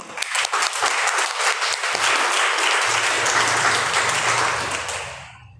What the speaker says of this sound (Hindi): तो इसके लिए बहुत ज़ोरदार तालियां।